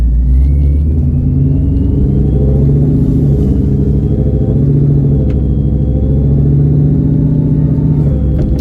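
Ford SN95 Mustang with a swapped-in Coyote V8, a loud close deep rumbling idle that swells into revs and throttle blips while driving, with no talking.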